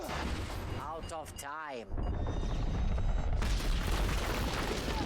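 A short-range ballistic missile strikes in Captain America: The Winter Soldier: a loud, sustained roaring blast with heavy low rumble fills the scene, cutting out briefly before a second wall of explosive noise, with voices speaking over it.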